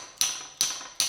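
Three sharp metallic blows of a wrench used as a hammer on old brake lines of an abandoned 1962 AMC Rambler, evenly spaced, close and loud with brief ringing decay.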